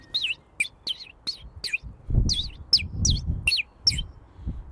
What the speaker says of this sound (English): we are now gonna test this bird whistle and see if we can call in any birds